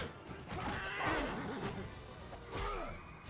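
A horse whinnies loudly in a Mount & Blade Bannerlord battle, a long wavering neigh followed by a second shorter whinny, set against faint background game noise.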